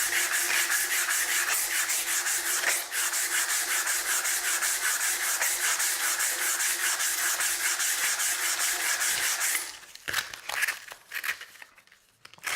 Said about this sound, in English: We're going to work our way through the grits. The next abrasive is the 120 grit.